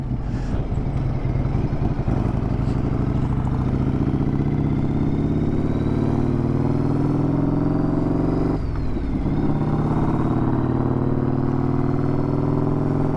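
A 1994 Harley-Davidson Softail Heritage Classic runs in a steady, loud, continuous rumble with shifting pitch as it rides along, a brief dip near the middle, and no voices.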